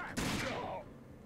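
A single loud gunshot in the shooter game Rage, a point-blank blast with a sharp attack and a decaying tail that lasts under a second.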